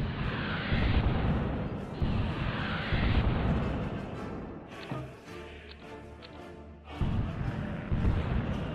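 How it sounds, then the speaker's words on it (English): Bombing and artillery fire in a war video game set in the Algerian War of Independence, with dense, rumbling, loud booms that roll on in heavy bursts, ease briefly in the middle, then surge again. "Let's see if we can bomb him some"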